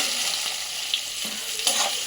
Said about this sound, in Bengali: একটু সামান্য নুন দিয়ে ভেজে নেব।